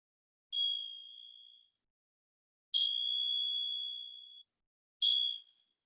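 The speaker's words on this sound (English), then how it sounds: "Maybe you'll hear some bells, maybe just a teacher's call back." Three clear ringing tones, like a bell or singing chime, sound one after another with silence between them at the close of Shavasana in a yoga class, each ringing out and fading, the middle one sustained longest.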